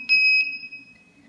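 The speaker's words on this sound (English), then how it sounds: "The IR sensor is connected to the buzzer, so if somebody comes in front of us, the buzzer will buzz." A homemade battery scooter's buzzer, triggered by an IR sensor, sounds two quick shrill electronic beeps and then a fading high ring, loud and close.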